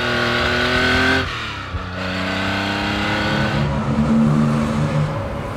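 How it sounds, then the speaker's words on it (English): A 1969 Porsche 911 T engine hums and drones steadily up close, rising and falling in pitch as it accelerates and shifts gears. "This car is incredible to drive."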